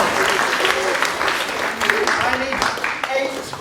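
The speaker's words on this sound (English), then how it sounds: "round of applause, please" Applause from a school audience at a British Science Week 2022 event, steady broadband clapping filling the whole stretch at moderate loudness, with a presenter's voice and some children's chatter mixed in.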